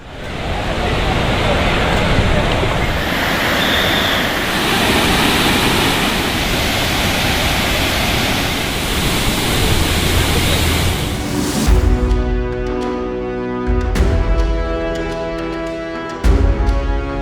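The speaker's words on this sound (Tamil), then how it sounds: "ஒகேனக்கல் அருவிகளில் தண்ணீர் ஆர்ப்பரித்து கொட்டுகிறது" Water roars steadily down the Hogenakkal waterfalls, a dense, loud, continuous rush, with clicks and rumbling handling noise toward the end.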